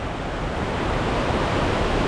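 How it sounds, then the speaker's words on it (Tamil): Water pours into a tunnel waterfall cave in Vagamon, producing a dense, steady, close rushing roar with no breaks or voices. "குகைக்குள்ள தண்ணி வர்றது."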